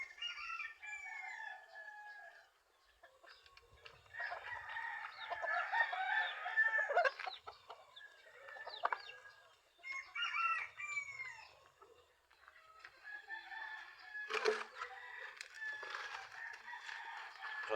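Five-month-old gamecock rooster crowing repeatedly outdoors, several drawn-out calls with pauses between them, mixed with clucking from other fowl, moderately distant and fairly quiet.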